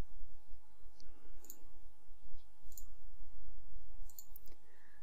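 Mouse clicks while working in Momentum Job Cost accounting software, a few sparse, faint clicks scattered over low background hum, with no talk.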